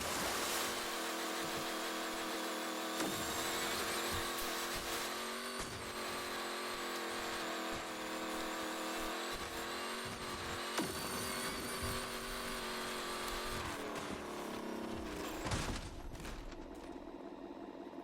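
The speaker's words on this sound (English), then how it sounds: "the RC cars can be in water, and simply just glide across all the water" A small RC car in the Motorfest racing game skims across water, its buzzing motor whine steady and fairly loud alongside splashing and wave-like wash, with a few sharp bursts along the way.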